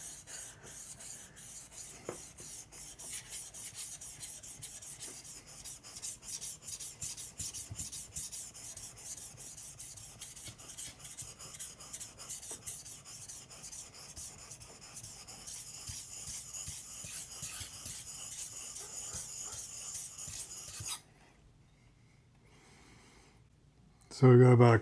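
A knife blade is worked back and forth on a 1200 grit sharpening stone, producing a continuous close scraping rasp with rhythmic strokes that stops near the end, followed by a brief louder thump.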